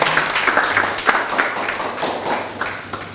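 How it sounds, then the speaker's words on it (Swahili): An audience at a Quds Day commemoration during Ramadan breaks into dense, sustained applause, many hands clapping together at a steady level for several seconds without any voices. "Makofi mengi sana."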